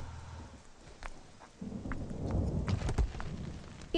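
Thunderstorm with rain in a tense roadside scene where a vehicle has stopped: low rumbling thunder swells after a quieter opening, with a steady hiss of rain and scattered sharp cracks throughout.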